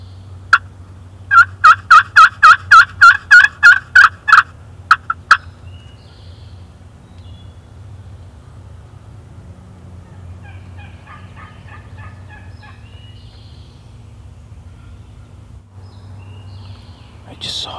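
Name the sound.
wild turkey gobbler gobbling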